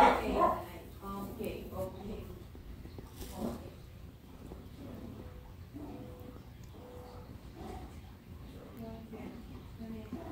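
Dogs bark and yip repeatedly at moderate distance, with an early burst followed by scattered barks and whimpers across the stretch, mixed with talking.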